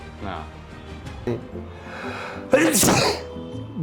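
A single sharp human sneeze bursts out mid-conversation during an interview, loud and close, with speech around it before and after.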